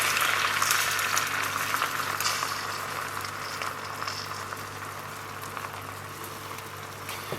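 A sweetened Norman apple omelette mixture with Calvados sizzles and bubbles in a hot buttered pan, a close, steady crackling hiss that starts strongest and settles slightly softer over several seconds.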